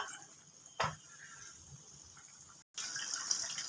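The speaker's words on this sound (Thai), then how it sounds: "น้ำน้อยไปนิดนึงพี่น้องใส่น้ำนิดหน่อย" Water runs from a tap or is poured into a pan of Thai stir-fried catfish curry with eggplants. A steady close splashing rush is broken by a brief gap, then resumes more brightly, with no voices.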